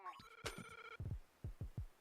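An old-style telephone rings in a video game, a bright electronic bell tone lasting about half a second, then low thumping footstep-like pulses in clusters.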